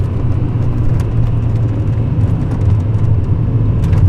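A Honda Civic Si EM1 with lowered, non-stock suspension drives past with a loud, constant engine drone and road rumble, no voices.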